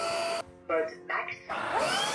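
A Proscenic F20 wet floor vacuum cleaner whirs loudly on max mode, cutting out briefly twice before resuming its steady motor roar, close up.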